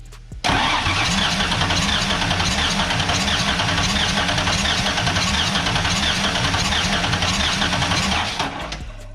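A Ford 351W-based 408 stroker engine cranks on the starter during a compression test on cylinder four. There is a steady rhythmic chugging for about eight seconds, loud and close, then it stops abruptly.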